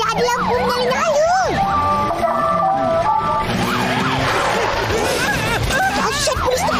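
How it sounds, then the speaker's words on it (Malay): A police motorcycle siren in an animated cartoon wails loudly in repeated rising and falling sweeps, joined by a second steady two-tone siren pattern, with busy cartoon sound behind it. "Siap bunyi siren dah ada lampu menyala-nyala."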